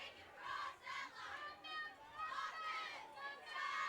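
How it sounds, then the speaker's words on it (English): Restless home football fans at a Morris Knolls high school playoff game cheer and shout in swelling waves from the stands, with a commentator's voice over the noise. "the Knolls crowd is getting restless"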